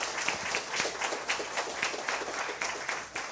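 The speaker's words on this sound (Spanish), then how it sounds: "Agradezcámosle con un aplauso." An audience at a lecture by a priest gives a warm round of applause, a dense, even wash of many hands clapping at moderate volume, with no speech over it.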